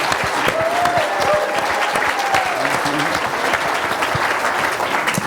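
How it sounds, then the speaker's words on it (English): Audience applauding at a celebration honoring a judge, a loud close dense patter of many hands clapping, with a brief whistle-like tone rising over it early on. "you'd better applaud right now for Ken."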